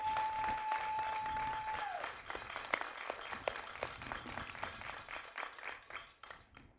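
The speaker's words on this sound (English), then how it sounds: "So they deserve a real round of applause." An audience at a middle school moving up ceremony gives a round of applause, a faint, steady clatter of many hands clapping that tapers off near the end.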